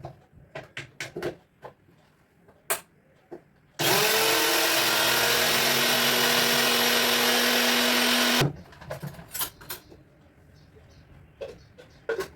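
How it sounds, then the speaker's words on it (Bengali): A kitchen mixer grinder whirs loudly and steadily for about five seconds grinding poppy seeds, framed by clattering taps and handling noises before and after. "চলো পোস্তটাকে আগে বেটে নিই।"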